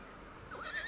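A horse whinnies in the video game Red Dead Redemption 2, a short rising neigh entering halfway through over a steady bed of ambient game noise.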